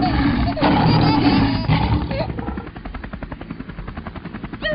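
A loud, roaring engine drone gives way to a rapid, pulsing thump of rotor blades, steady and close throughout.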